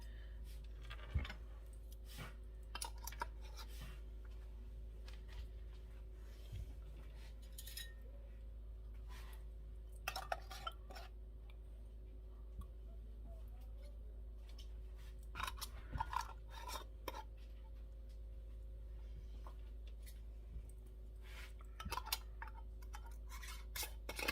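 Metal lids being finger tightened onto glass canning jars filled with melted butter: scattered close scraping, clicking and twisting sounds over a steady low hum, with quiet gaps between.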